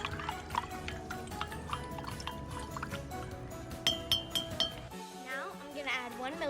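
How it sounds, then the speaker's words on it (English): A wooden splint stirs liquid in a glass beaker of bromothymol blue and ammonia, giving light repeated clinks and small liquid sounds, with a voice speaking over them. "now I'm just putting that in the bromothymol blue beaker and mixing it up using a wooden splint"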